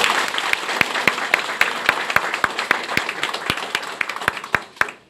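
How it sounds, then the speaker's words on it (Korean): Audience applause at a Namyangju city public meeting on development-restriction zones, a steady wash of many hands clapping with sharper individual claps standing out, sustained for about five seconds before ending abruptly. "박수 보내주시죠."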